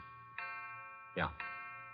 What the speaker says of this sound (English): Grandpa's making with the chimes.